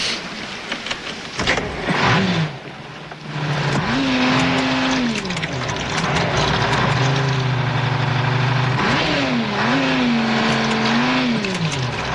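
A just-repaired car engine fires up and revs hard several times, loud and close, its pitch climbing and falling in repeated surges over a steady running drone.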